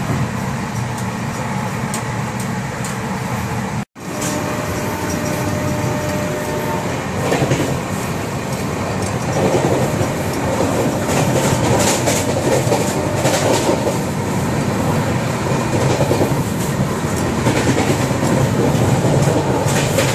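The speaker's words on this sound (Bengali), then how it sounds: "কানহা জাংশন স্কিপ করে এগিয়ে যাচ্ছে ট্রেন" A long-distance passenger train running from Pune toward Kolkata and passing Kanha Junction without stopping gives a loud, steady rumble with clickety-clack wheel beats, a brief dropout early on, and no voices.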